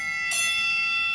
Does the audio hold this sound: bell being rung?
yes